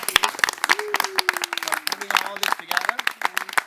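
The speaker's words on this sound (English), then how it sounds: "give Matt and Lisa a big applause" A small group at a reunion gathering claps for Matt and Lisa, scattered nearby hand claps in an uneven rhythm, with people talking over them throughout.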